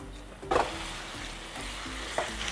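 Marinated mutton tipped into browned onions in hot oil sizzles sharply on contact, then settles into an even frying hiss with a small stir-scrape near the end; no voices.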